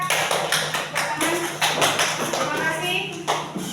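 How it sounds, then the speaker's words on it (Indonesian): Classroom applause for a student as children clap together, a dense run of rapid claps filling the room with a few louder bursts, close and steady throughout. "Beri aplaus untuk Mbak Rika."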